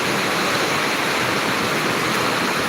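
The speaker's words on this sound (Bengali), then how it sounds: "প্রচণ্ড বাতাস এবং বৃষ্টি" Heavy rain driven by strong wind pours down outside in Bangladesh, a loud, continuous roaring wash of noise that stays dense and unbroken throughout, with no voices over it.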